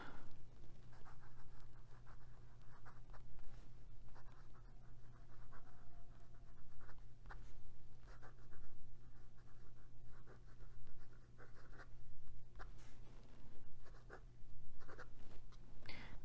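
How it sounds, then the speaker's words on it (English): A Pilot Custom Heritage 92 fountain pen with a fine nib scratches across paper in blue ink, close and steady, a slightly rough, papery scratching broken into short strokes and pauses over a low background hum. "The more and more I write with these nibs that are feeling a little rougher"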